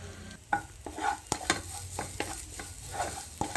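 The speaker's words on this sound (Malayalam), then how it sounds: "അതിലേക്ക് കുറച്ച് തേങ്ങ ചിരകിയത് ചേർത്ത് നന്നായിട്ട് ഇളകിക്കൊണ്ടിരിക്കുക" Grated coconut being stirred in a pan for kozhukatta, a repeated series of close scraping strokes from a spoon across the pan, spaced roughly every half second over a light, steady sizzle, with no talking.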